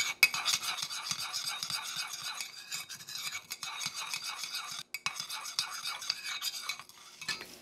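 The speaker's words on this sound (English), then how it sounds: "you're going to stir very well and get your sugars combined" A spoon stirs white and brown sugar together in a cup with rapid, continuous gritty scraping and light clinks against the sides, close and steady for several seconds.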